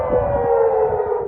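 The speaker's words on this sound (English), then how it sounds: "Sirens wailing, with Israeli cities now on high alert." Air raid siren wailing over an Israeli city during a rocket attack, a loud sustained tone drifting slowly downward with no voices over it.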